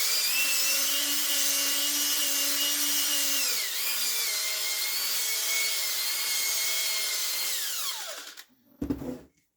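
A reamer cutting inside a plastic shotgun choke tube gives a high, tonal squealing whine that shifts pitch partway, runs steadily, then winds down and stops, followed by a brief handling clatter.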